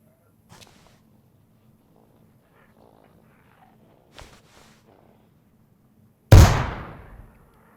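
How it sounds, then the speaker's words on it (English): Flashbang grenade exploding in DayZ, a single loud, sharp blast with a short trailing decay after a few faint clicks and shuffles. "then again it is a flashbang"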